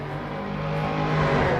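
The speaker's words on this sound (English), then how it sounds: "Whoa, Chapparal's so loud." A Chaparral historic sportscar racing in Assetto Corsa, its loud engine roaring steadily and close, holding a dense low drone that swells slightly louder toward the end, with no talk over it.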